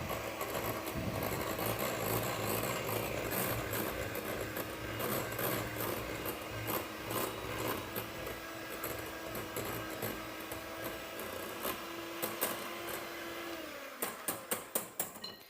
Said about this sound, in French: je vais rajouter ma cuillère à soupe de cacao et je vais bien mélanger